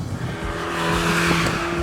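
Fiat 500 Abarth convertible with a turbocharged 1.4-litre MultiAir four-cylinder, its engine and exhaust revving loudly and steadily, rising slightly in intensity with no talk over it.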